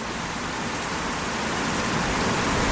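Heavy rain pours during a violent summer thunderstorm in Gironde, a dense continuous roar that builds slightly in intensity, with no voices.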